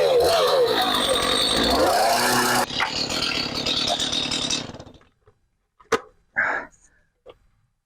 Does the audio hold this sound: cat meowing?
no